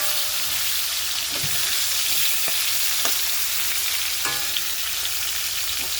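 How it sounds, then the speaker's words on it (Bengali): Foli fish (featherback) frying in a pan of hot oil, a steady close broadband sizzle with occasional clicks and soft stirring or flipping taps, no voices over it. "বন্ধুরা মাছ ভাজা, ফলি মাছ ভাজা বসিয়ে দিয়েছি"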